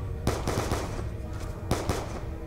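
Gunfire in Black Ops 2 Zombies: rapid bursts of automatic shots, one quick volley followed after a pause by a second short burst, loud and close amid game noise.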